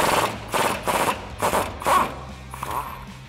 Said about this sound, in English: I'm gonna use my impact gun and my 21 millimeter deep socket to take that nut off